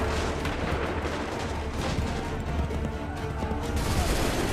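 Musket volley fire in the video game Assassin's Creed III, a dense, continuous crackle of many loud overlapping gunshots with battle noise, no clear talk.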